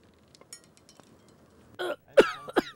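A man coughs a few times in quick bursts, harsh and throaty, close and fairly loud after a quiet stretch of faint background sounds in a chemistry lab scene from a film.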